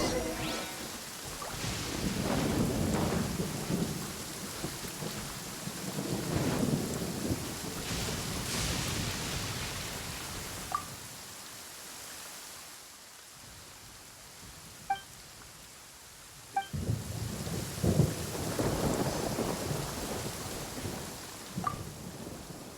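A steady thunderstorm: rain hisses throughout while low thunder rumbles roll in and out, loudest near the start and again toward the end, with a few faint sharp knocks and no speech.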